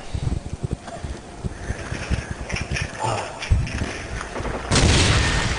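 Noob-tube grenade launcher blasts in a Call of Duty 4 multiplayer match, with booming explosions and scattered gunfire, a loud burst near the end, mixed with background game noise.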